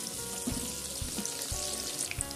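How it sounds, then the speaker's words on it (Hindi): Soya chunks fry in hot oil with a steady crackling sizzle, close and fairly loud, with small pops and a few soft knocks. "अब हम इसमें सोया चंक्स डाल देते हैं फ्राई करने के लिए।"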